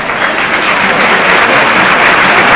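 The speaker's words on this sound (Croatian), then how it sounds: "Jače, da čujem taj aplauz" An audience claps loudly and steadily at a county sports awards ceremony honoring athletes of the year, a thick, continuous wash of applause with no speech over it.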